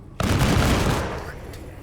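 Burst of gunfire in the tactical video game Menace, a sharp loud onset followed by a sustained rattle of shots that slowly fades over under two seconds, with no talking.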